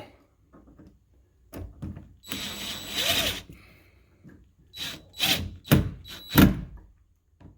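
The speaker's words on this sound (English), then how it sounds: "Finish them off with the drill." A power drill whirs in several short bursts up close, driving screws, with brief pauses and a few dull knocks between the spurts.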